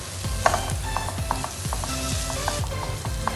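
A spoon stirs a cheese and mushroom stuffing mixture in a pan on a gas stove, giving repeated rhythmic scraping strokes over a steady close sizzle.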